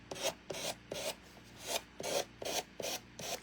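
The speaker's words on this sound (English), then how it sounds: "We're gonna rub and buff that too." Rub 'n Buff being rubbed by hand onto the edge of a craft print, a series of short, scratchy rubbing strokes in an uneven rhythm, close and soft.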